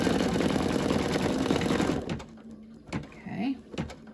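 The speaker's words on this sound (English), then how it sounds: "Okay, so now it's going to stitch out the little heart design." An embroidery machine stitches out a small heart design with a fast, even mechanical whirr that stops partway through, followed by a few scattered clicks and handling knocks.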